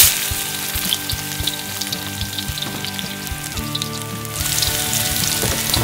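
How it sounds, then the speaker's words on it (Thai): Garlic sizzles and crackles steadily in hot vegetable oil in a wok, with background music playing throughout. "กระทะร้อนแล้วใส่น้ำมันพืชลงไปเลยครับ ตามด้วยกระเทียมครับ"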